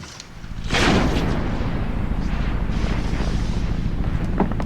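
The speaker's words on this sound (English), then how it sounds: "When it rolls over an anti-personnel landmine, it's heavy enough to detonate the explosive." A landmine detonated by the wind-driven Mine Kafon rolling over it gives one sudden broad blast near the one-second mark, followed by a sustained roaring, rumbling wash that holds loud to the end with no talk.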